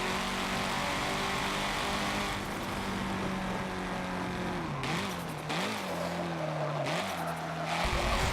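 A Nissan race car in Forza 7 drives with a loud, steady engine drone that rises and wavers through the gears, joined by bursts of tire squeal and skidding through corners.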